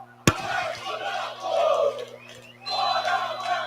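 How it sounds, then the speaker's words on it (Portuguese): Guarani football fans in a stadium chant loudly against club president André Marconato. A sharp bang opens the clip, then the crowd chant swells in rhythmic waves, dips briefly and rises again. "A torcida do Guarani pedindo fora Marconato"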